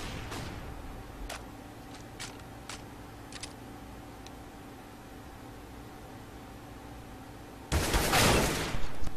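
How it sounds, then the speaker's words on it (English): In Counter-Strike, a flashbang grenade is thrown. A few faint clicks and a steady hiss are followed by a loud burst of bright noise near the end, with no talking. "Throwing flashbang."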